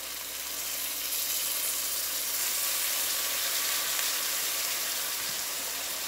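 Red snapper sizzles steadily in a pot as lemon juice goes in, a dense, even frying hiss filling the whole stretch without pause or talk.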